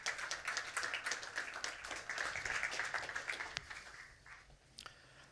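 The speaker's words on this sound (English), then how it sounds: "So now here I would like to ask for your applause for David Rufino" An audience at a pitch event applauds a speaker with steady, dense clapping that gradually thins out toward the end, with no talk over it.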